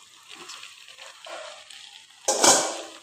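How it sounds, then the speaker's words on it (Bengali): Pieces of already-fried chicken drop into a pan of hot curry gravy, and a loud burst of sizzling rises sharply near the end after quieter stirring and faint frying. "এবার ভেজে রাখা চিকেনগুলো ওর মধ্যে দিয়ে দেবো"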